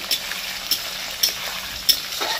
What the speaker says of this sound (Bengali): দেখো সমস্ত ছোলা ভাজা হয়ে গেছে।